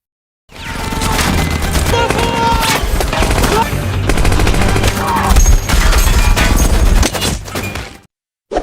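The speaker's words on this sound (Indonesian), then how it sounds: "ia kembali menembakkan sisa peluru yang ada, menghancurkan lebih banyak musuh" Sustained bursts of rapid machine-gun fire and scattered gunshots in a war film battle scene rattle loudly for several seconds, dense and chaotic, before cutting off abruptly.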